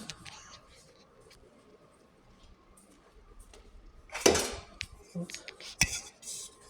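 A metal pot lid is set over cooked food in a home kitchen to keep it warm: a sharp clatter, then a second lighter clank, after quiet rustling and faint background noise.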